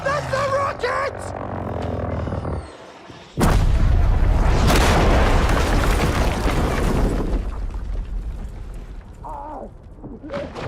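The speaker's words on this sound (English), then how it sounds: "That's the rockets!" Rocket explosions in a video game: after sounds of gameplay and a sudden dip, a huge, close blast erupts into several seconds of roaring, crackling rumble that slowly fades.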